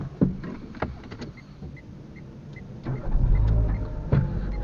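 A 2015 Renault Clio engine idles as a low, steady rumble that grows fuller and louder partway through, with scattered clicks and knocks nearby.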